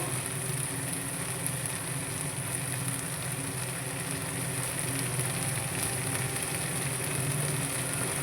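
Chopped tomatoes and spices frying in a pan while being stirred, a steady hissing sizzle with a broad crackle, continuous and moderately faint, no voices.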